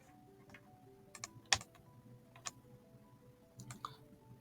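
Computer mouse clicks at a desk, a few sharp, soft clicks scattered over faint background hum, one more distinct click standing out.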